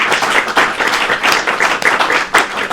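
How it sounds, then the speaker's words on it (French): Audience at a Belgian children's book awards ceremony applauds an organizer, a close, loud, dense run of clapping that carries steadily throughout with no talking. "je pense qu'on peut l'applaudir."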